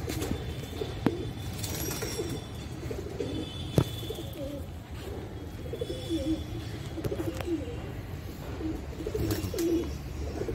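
Pigeons coo softly and repeatedly in a low, rolling murmur over outdoor background noise, with a couple of sharp knocks.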